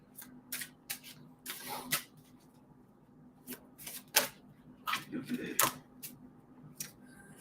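Tarot-style cards shuffled and laid down during a psychic reading, heard as a series of quick riffling and slapping bursts with soft handling noises between them, close and fairly quiet.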